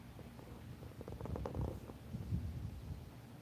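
An indoor apartment cat purring softly, a faint, steady low rumble that swells slightly in the middle, with no voices.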